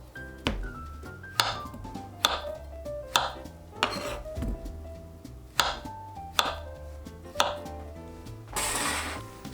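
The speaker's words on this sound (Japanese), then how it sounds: "お好みのサイズにカット" A knife cuts through boiled potatoes on a cutting board, with roughly ten crisp, evenly spaced chops landing close and clear against a quiet background.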